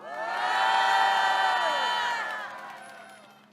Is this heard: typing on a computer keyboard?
no